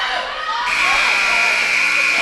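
A basketball game-ending buzzer blares loudly and steadily inside a school gym, a sustained harsh electronic tone that rises over a cheering crowd and continues to the end.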